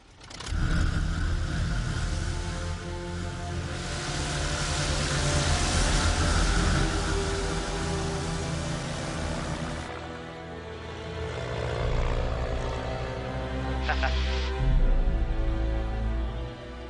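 A small aircraft engine starts and takes off for a flight over Pacific Northwest scenery, a loud, steady broadband drone that fills the whole stretch and shifts in tone partway through.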